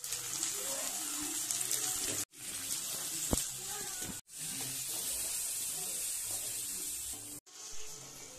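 Water is poured into a pan while making mango thokku with jaggery, a steady splashing hiss interrupted by brief cutoffs, with a voice faintly in the background.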